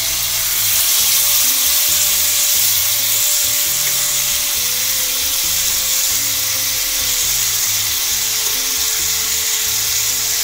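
Marinated pomfret fish sizzles on a barbecue grill, a loud, steady, close-up hiss and crackle that runs unbroken throughout with no talking.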